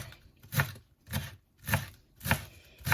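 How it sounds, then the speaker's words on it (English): A knife chops bacon and wieners on a cutting board in five evenly spaced, fairly soft thuds about every half second, with quiet pauses in between. "I'm gonna chop it in a small piece, just like this."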